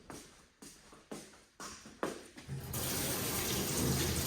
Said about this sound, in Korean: 따뜻한 물도 잘 나오네